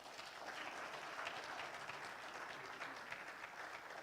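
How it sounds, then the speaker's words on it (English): Steady applause from an audience in a hall, honoring a professor after a talk at a remembrance event; dense, even clapping holds throughout at moderate distance with no pauses. "Let's give Prof a round of applause."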